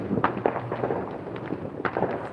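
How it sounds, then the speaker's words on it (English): Legal consumer fireworks popping and crackling on the Fourth of July in a Las Vegas city neighborhood, a rapid scatter of sharp bangs of varied loudness over a steady outdoor background. "these are legal fireworks, totally legal"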